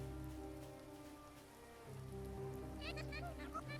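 Steady soft rain falls in a cozy animal village video game, a faint continuous patter with droning game music underneath and a few brighter chimes near the end.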